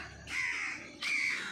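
Two loud, drawn-out crow caws, one after the other with a short pause between, close by against quiet background.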